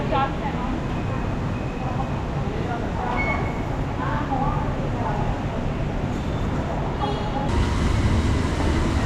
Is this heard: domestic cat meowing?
no